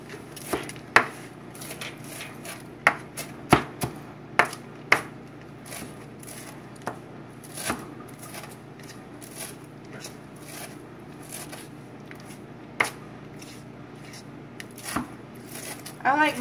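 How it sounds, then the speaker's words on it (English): Cilantro being chopped with a knife on a cutting board: a run of quick, light taps and thuds, irregular and fairly close, with faint background room noise and no speech. "I have cilantro here that I'm going to chop"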